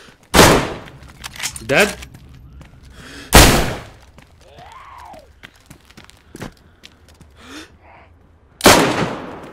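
Gunshots in the video game DayZ ring out as three loud, sharp reports several seconds apart. Voices talk quietly in the gaps between them.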